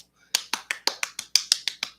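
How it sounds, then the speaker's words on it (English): Ten sharp hand claps sound in an even, unhurried rhythm, each crisp and close, with short silent gaps between them and no talking. "Big claps."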